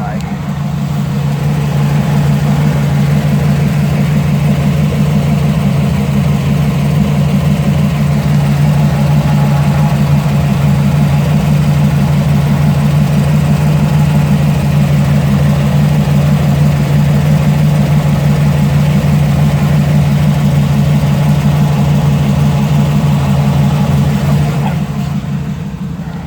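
A 1948 Ford Roadster engine idles steadily and loudly up close, a continuous low droning hum with a faint uneven pulse that holds unchanged throughout before cutting off near the end.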